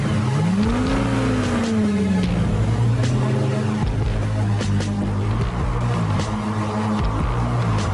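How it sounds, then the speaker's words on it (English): A supercar engine, styled like a cross between a Ferrari and a Lamborghini, starts and revs up with a rising whine, then settles into a steady, loud idle with some pitch wavering. "Press the power button, put on the ignition. Hold the same power button, hit the starter."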